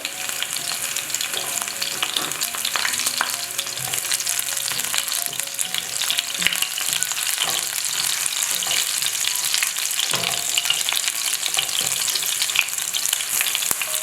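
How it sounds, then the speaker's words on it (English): Roughly crushed garlic, ginger and hot pepper sizzle steadily in oil in a pan, a dense continuous frying hiss with a few faint clinks, close and with no talk. "I'll add garlic, just roughly crushed, ginger and hot pepper to flavor the oil."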